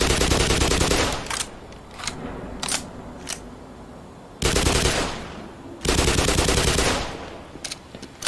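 Gunfire from a recoil-heavy automatic weapon in the video game Black Mesa, loud rapid bursts of shots separated by short pauses and single cracks, close and dominant throughout.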